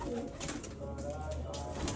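Pigeons coo in a low, continuous murmur around a home loft, fairly faint, with a voice speaking intermittently over them.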